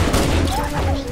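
Gunfire in Halo: Combat Evolved during co-op play, a dense burst of shots and thuds heard under people talking.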